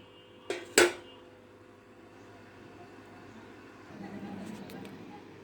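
A lid goes onto a pot of khichuri with lentils, cloves and bay leaves, giving two quick close metallic clanks, one lighter and then one louder, followed by a low kitchen hum.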